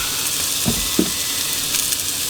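Flour-coated tofu fries in a pan with a steady, close sizzle and crackle, broken by a couple of brief soft knocks of something being moved around.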